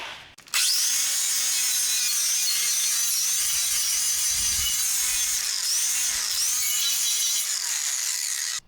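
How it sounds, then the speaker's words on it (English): Flap wheel on a grinder brushing over the steel frame of a Datsun 520 pickup, a loud continuous abrasive whir with a steady motor tone that holds for about eight seconds, close and alone. "I'm gonna brush over the top with this flapper wheel"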